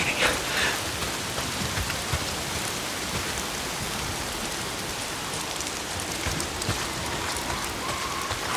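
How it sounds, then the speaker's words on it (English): Steady rain pours down in the Days Gone video game, a dense, even hiss of drops striking surfaces that runs unbroken throughout with no speech. "If it's not the freaks, it's the goddamn rain."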